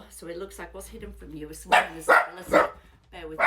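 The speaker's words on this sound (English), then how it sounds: "My daughter's just come home and the puppy started to bark" A puppy barks in several loud, sharp bursts in the same room, mostly in the second half, while a person keeps talking over and between the barks.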